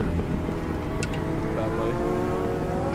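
McLaren P1 engine in the racing game Automobilista 2, a steady loud drone with layered engine harmonics held for three seconds, part of a crowded race with other cars around.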